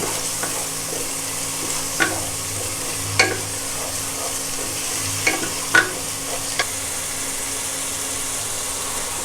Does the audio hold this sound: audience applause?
no